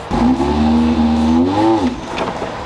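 Rally car engine just after a stall: a loud, near engine note rises and holds for about two seconds, wavering slightly, then drops away with no talk over it.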